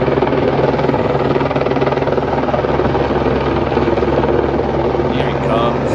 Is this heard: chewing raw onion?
no